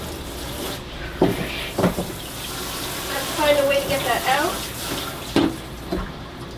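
Running water splashes steadily as a vintage lamp shade is rinsed beneath a cold flow, with a person talking over it and a few sharp knocks.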